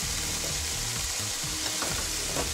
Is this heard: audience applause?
no